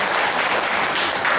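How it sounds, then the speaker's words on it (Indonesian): An audience claps for children after a class performance at a school event, loud, close and continuous throughout the short burst. "tepuk tangan buat anak-anak kita"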